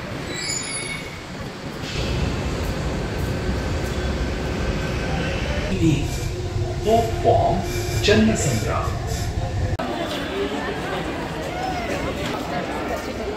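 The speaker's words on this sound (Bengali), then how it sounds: "একদম মাটির নিচে চলে আসছি আমরা, দেখো মেট্রো" An underground metro train runs steadily through the whole stretch with low rumbling, wheel noise and faint squeals, while people talk over it throughout.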